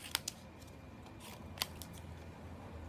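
Scissors cutting through stiff, heavy-weight paper for a homemade paint applicator, a few quiet, crisp snips spaced apart over a faint background hiss, with no talking.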